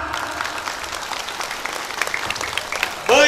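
Crowd clapping at a church welcoming ceremony for a bishop, moderate and steady applause filling the hall, with a brief burst of sharp, whistle-like tone at the very end.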